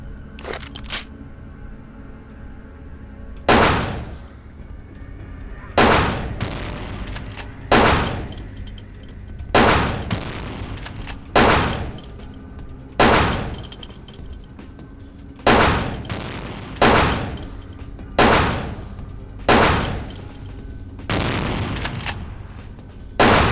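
Repeated heavy gunfire in Vampire: The Masquerade – Bloodlines, likely a shotgun, about a dozen loud booming blasts spaced a couple of seconds apart, each trailing off into a short decay, close and without talk.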